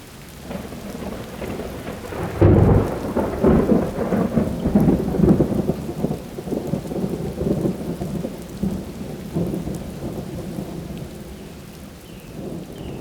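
Sharp, loud thunderclap from a lightning strike bursts out early, then a long rolling rumble fades away beneath steady pouring rain.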